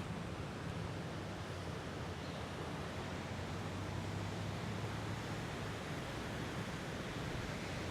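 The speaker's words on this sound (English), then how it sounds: "So the surf's going pretty good." Ocean surf breaking on a beach, a steady broadband wash of rolling waves heard without interruption, fairly faint and even throughout with no speech.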